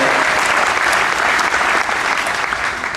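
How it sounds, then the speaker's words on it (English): A church congregation bursts into loud, sustained applause, many hands clapping together densely throughout, close and full with no pause. "Let's give Jesus Christ a hand clap."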